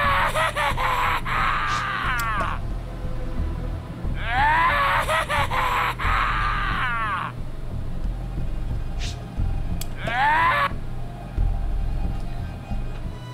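Kid Buu screams in the Dragon Ball The Breakers video game, three loud shrill wavering shrieks lasting a second or more each, over a steady low rumble.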